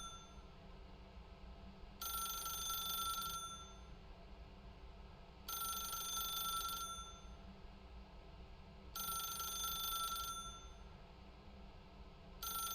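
A telephone rings in a video game while the caller waits, three long trilling bursts at steady intervals over a constant low background hum, with no talking.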